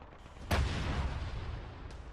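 A sudden sharp blast from a rocket in the military shooter Arma 3 cracks out and rolls into a long fading rumble. A fainter second pop follows later, with no voices.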